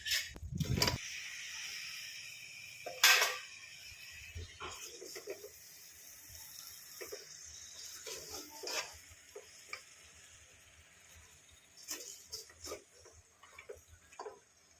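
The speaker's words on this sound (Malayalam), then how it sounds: "ഇതിലേക്ക് ചിക്കൻ ഇടാം" Chicken pieces go into a pan of Kerala-style curry, giving a soft, low sizzle with intermittent scraping and stirring clatters, mostly quiet with a few louder knocks.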